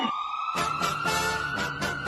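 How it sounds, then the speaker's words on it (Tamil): A wailing ambulance siren sounds steadily throughout, loud and fairly close, its tone holding high with pulsing bursts of noise layered over it. "ஆம்புலன்ஸ் வழி விடுங்கப்பா"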